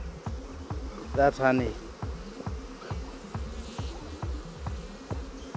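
A steady, close hum of many honeybees buzzing at a hive, with individual insects droning past now and then.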